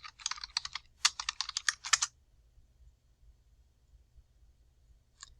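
Quick bursts of typing on a computer keyboard as a book title is entered, clear close clicks in two short runs, then near silence and a single faint click at the end.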